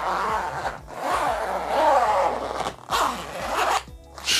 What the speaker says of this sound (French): Là j'ai juste à refermer. Il y a une fermeture de chaque côté.